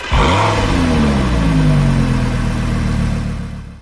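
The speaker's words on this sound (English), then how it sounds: "That sounds very nice there with the V10 engine" A Lamborghini Gallardo LP560-4 V10 in Gran Turismo 6 revs hard, a loud, close engine note that rises and holds its pitch for several seconds before easing off toward the end, with no voices.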